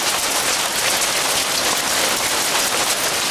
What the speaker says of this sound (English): now it's just raining, but 1/2 inch hail